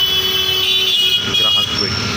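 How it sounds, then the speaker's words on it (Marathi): Congested road traffic on Tilak Road: a dense, steady roar of engines and horns nearby, with voices mixed in, over a brief stretch. "ट्रॅफिक झालेला आहे. हा टिळक रोड आहे, टिळक रोड."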